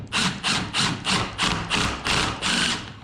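A power drill drives 1.5-inch screws into PVC exterior window trim in a series of about eight evenly spaced bursts, close and fairly loud with brief pauses between them.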